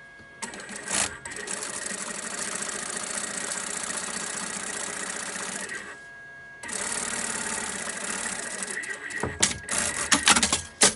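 A sewing machine runs steadily while stitching a seam on a beach bag with a lining, with a continuous whirring hum and one short pause, then it resumes and ends in a few uneven knocks.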